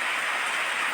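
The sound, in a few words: rain falling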